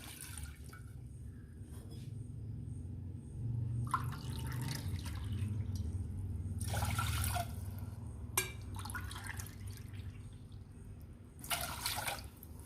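Water is poured from a cup into a saucepan for halwa in a home kitchen, in several separate splashing pours with quiet pauses between them, under a low background hum.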